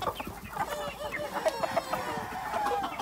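Chickens clucking continuously inside a crowded poultry coop on a meat-bird farm, a dense, steady chorus of overlapping clucks with an occasional crow, close and moderately loud with no talk.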